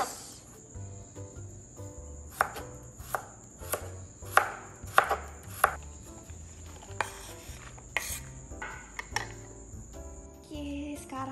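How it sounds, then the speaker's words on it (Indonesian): A knife chops food thinly on a cutting board in irregular sharp taps, close and crisp, with a steady insect-like chirp in the background. "Nah, kalau tumis biasanya aku motongnya tipis-tipis."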